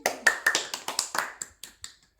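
Children in a home class clap in a quick, uneven run of sharp individual claps that thin out and slow toward the end, close and fairly loud with no talk.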